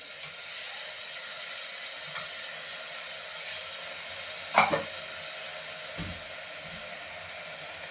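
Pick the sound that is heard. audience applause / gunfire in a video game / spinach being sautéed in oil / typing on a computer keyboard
spinach being sautéed in oil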